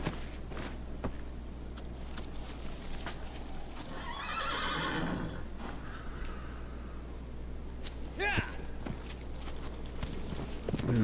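A horse in Shadow of the Colossus whinnies loudly near the middle, with clip-clop hoofbeats thudding steadily throughout over a constant low hum.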